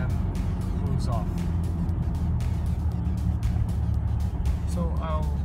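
A BMW E90 with a worn clutch revs under a low, steady engine rumble, then slowly pulls away, with faint bird chirps in the background.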